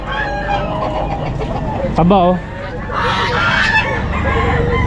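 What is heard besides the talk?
Bantam Cornish chickens crowing at a pet market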